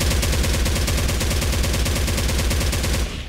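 A G36 rifle fires at a wall in the video game Special Force 2, a loud, continuous rapid-fire burst of evenly spaced shots lasting about three seconds before cutting off abruptly.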